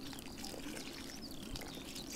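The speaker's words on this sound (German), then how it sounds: "Du kriegst auch was Wasser." Water is poured onto a stinging nettle in the gardening video game Garden Witch Life: a steady, even pouring trickle lasting the whole moment, moderately quiet, with faint birdsong in the background.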